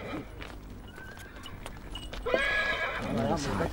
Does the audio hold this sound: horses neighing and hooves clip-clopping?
yes